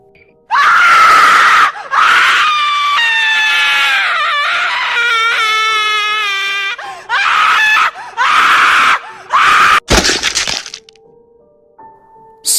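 Loud, shrill screaming in several long bursts, with a sharp crack and breaking sound near the end.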